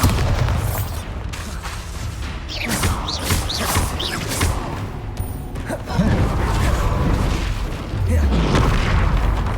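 Confringo and Bombarda spell explosions in Hogwarts Legacy crack out as a series of loud bursts and booms, mixed with game noise and a voice calling out.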